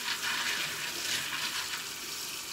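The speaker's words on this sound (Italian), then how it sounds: "Una bella sciacquata così, in modo da pulirli bene." Beans being rinsed under running tap water in a home kitchen make a steady rushing hiss of water that stays constant and close, then stops abruptly.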